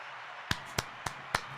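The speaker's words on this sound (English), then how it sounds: "add my own claps in for that." Five sharp, evenly spaced hand claps ring out close and distinct over a faint steady background hiss.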